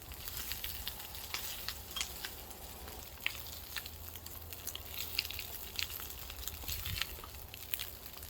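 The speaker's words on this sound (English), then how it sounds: "I'm just taking the pan on and off the fire, so I don't want it to burn" Breakfast cooking in a mess kit pan over a campfire gives a soft, steady sizzle and crackle with scattered small pops, quiet and close, with no talking.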